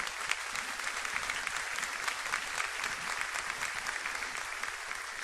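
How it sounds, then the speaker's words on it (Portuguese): A church congregation applauds in praise during a sermon, a full, sustained roar of many hands clapping at a steady level throughout, with no speaking over it. "Pode aplaudir o Senhor."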